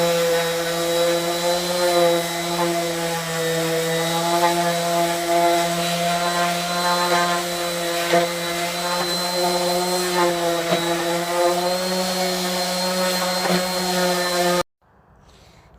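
A power sander strips old finish from a redwood garden planter, a steady loud whine with strong harmonics running continuously for about fifteen seconds before cutting off abruptly.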